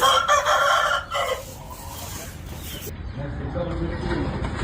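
A rooster crows once up close at the start at a poultry breeding unit, followed by quieter clucking and barnyard ambience with some background chatter.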